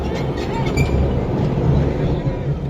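A passenger train rolls steadily along the rails, a continuous low rumble with faint rhythmic clatter heard from inside a carriage, with voices murmuring in the background.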